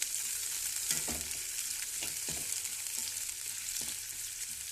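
Chopped onion pieces sizzle and fry in a pan, a bright continuous crackle with several scraping stir strokes recurring roughly every second, close and moderately loud with no talking.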